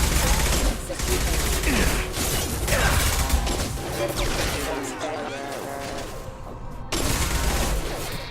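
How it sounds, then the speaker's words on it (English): Gunfire in a Mass Effect 2 firefight on PC, a dense stretch of loud shots and mechanical weapon clatter layered with game effects and some speech, briefly thinning near the middle before surging again. "Shoot them before they take out your shield."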